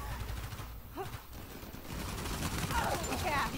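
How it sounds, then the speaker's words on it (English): Blind gunfire in Uncharted 4 multiplayer: a steady wash of rapid shots and game noise runs through the clip, fairly loud and continuous, with a few short whistling tones over it. "There's more of that lovely blind fire"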